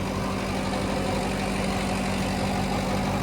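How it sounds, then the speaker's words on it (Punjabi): A tractor drives a rotavator that is fully loaded with soil, its engine holding a steady, low, continuous drone throughout with no pauses. "ਫੁੱਲ ਭਰ ਕੇ ਚੱਲ ਰਿਹਾ ਰੂਟਾਵੇਟਰ ਟਰੈਕਟਰ ਆਰਾਮ ਨਾਲ ਚੱਲ ਰਿਹਾ"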